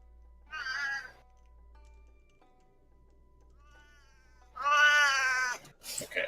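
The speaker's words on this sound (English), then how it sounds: "I'm gonna go get rid of my cats real quick." Two cats meow in bursts, a short one early and a louder, longer drawn-out cry near the end, with quiet room sound in between.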